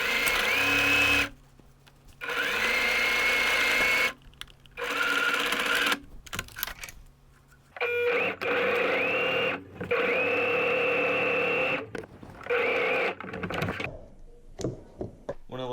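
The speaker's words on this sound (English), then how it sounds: "we're going to sew the edges together. And we'll sew along the edge." A sewing machine stitches along the edges of a bike seat bag, running in several whirring bursts of a few seconds each with short pauses between, close and clear.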